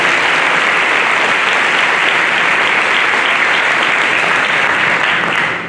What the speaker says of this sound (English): So how about a round of applause?